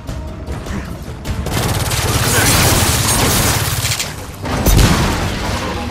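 Gears of War 4 combat with a grenade blast and bursts of gunfire, loud rumbling booms and rapid shots layered over one another, with a voice briefly heard amid the noise.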